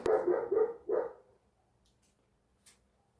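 A dog gives three quick barks close by, then falls quiet apart from faint background noise.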